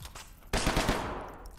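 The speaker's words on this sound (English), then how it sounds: "I'm shooting your corpse." Gunfire in the Hidden Deep video game: a sudden loud burst of rapid automatic shots starts after a quiet lead-in and rattles on with a reverberant tail, no voices over it.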